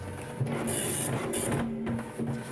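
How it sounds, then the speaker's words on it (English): A teletypewriter printer hammers out AI Dungeon game text in a steady, near mechanical clatter with bursts of high-pitched whirring, loud and continuous, with no voices. "I can tell when it's about to start by just listening for the actual printer"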